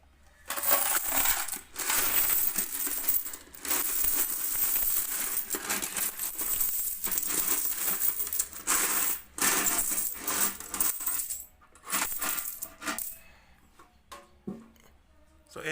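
Five- and ten-peso coins pour out of a savings box from a sari-sari store in a long, dense metallic jingling cascade, loud and close, with short pauses between pours.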